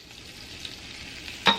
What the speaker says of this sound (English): I add a tablespoon of butter to the same pot, and we're gonna go ahead and melt that butter, and then I'm going to add some garlic